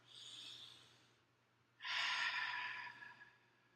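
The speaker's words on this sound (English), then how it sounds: "Stop, take 3 deep breaths." Slow deep breaths taken during a calming breathing exercise, a softer exhale followed by a fuller, louder breath, close and quiet with no talking.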